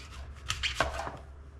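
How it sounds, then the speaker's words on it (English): Knife slicing through Cosmic Crisp apples, a few quiet, quick cuts and crisp crunches close by within about a second. "I'm just going to start slicing them"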